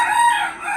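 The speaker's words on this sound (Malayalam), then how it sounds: "കോഴി കൂകുന്നതും" A rooster crows in the early morning outdoors, one clear, loud call close by that rises and holds before tailing off, with nothing else competing.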